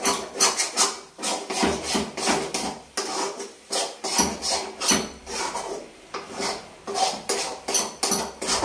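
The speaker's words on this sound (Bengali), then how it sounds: "আমি কটা শুকনো লঙ্কা পুড়িয়ে রেখেছি, একটু ম্যাশ করে দিয়ে দেবো" Roasted dried red chillies are mashed with steady, rhythmic scraping and rubbing strokes, close up and fairly loud, with no talking.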